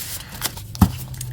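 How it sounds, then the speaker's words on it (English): A tarot deck is shuffled by hand in a few quick riffling bursts with a sharp flick near the middle, close and crisp. "Let's give it a good shuffle, and then we'll choose 3 cards"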